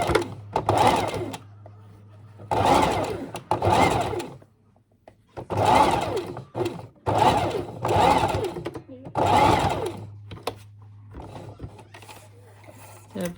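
A sewing machine stitches a fabric seam for a toy donkey: several loud, close bursts of rapid whirring and buzzing that start and stop, separated by short pauses with a low steady hum.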